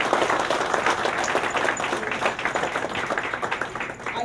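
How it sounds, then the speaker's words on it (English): Sustained audience applause at an Essex County College advisory board ceremony, many hands clapping in a dense, steady patter that stays loud throughout. "please give them all another round of applause"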